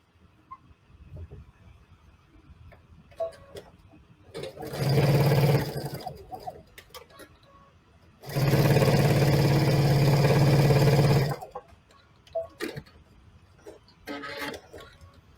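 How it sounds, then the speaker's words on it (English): Sewing machine stitching leather in two loud, steady bursts of a few seconds each, separated by quiet handling and rustling sounds nearby. "and we'll sew this"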